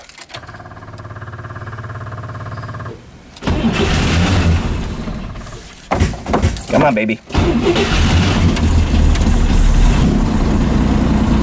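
A Corvair engine cranks with a steady whir, then catches and roars into a loud, rough fast idle on a car raised on jack stands, with a brief stumble before it settles into a continuous run under a voice.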